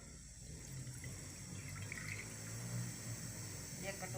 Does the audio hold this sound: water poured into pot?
yes